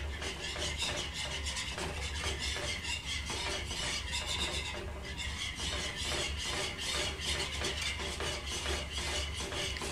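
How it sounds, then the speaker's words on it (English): A whisk scrapes and stirs steadily as milk is worked into a cheese sauce mixture in a pan, a continuous rhythmic rasping close by with no talking. "Keep whisking this and ensure that there are no lumps."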